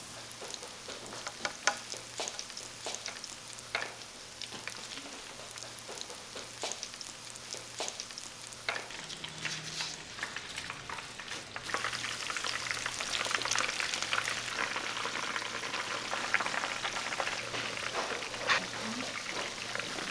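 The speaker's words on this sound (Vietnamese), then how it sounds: "Rồi mình cho vào chảo dầu và mình chiên giòn." Breaded pork and cheese rolls deep-fry in a pan of oil, a steady crackling sizzle with scattered pops that swells louder partway through, close up with no one talking.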